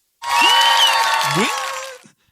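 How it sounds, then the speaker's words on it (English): A brief burst of applause and cheering with whistle-like whoops opens a podcast episode, loud and close, rising suddenly and fading out after about two seconds. "give it up a round of applause"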